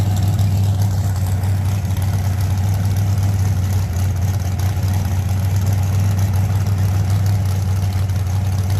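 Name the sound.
drag racing car engine, Rockstar, at Street Outlaws event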